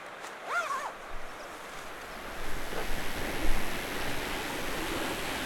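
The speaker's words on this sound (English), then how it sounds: "The waterfalls are absolutely stunning." Waterfalls on a Scottish mountain, a steady broad roar of falling water mixed with gusting wind, swelling louder midway, with a brief high whistle-like call near the start.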